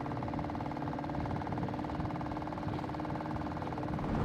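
A sailboat's engine idles off Namibia's Skeleton Coast with a steady low throbbing hum, continuous and even throughout, with no voices.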